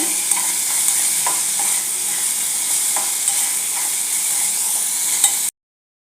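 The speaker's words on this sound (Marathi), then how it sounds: "कांदा खूप भाजायचा नाही फक्त थोडा परतून घ्यायचा" Onion sautés lightly in tempering oil for a village-style brinjal bharit, a bright continuous sizzle with occasional stirring clicks, close and loud, ending abruptly in silence.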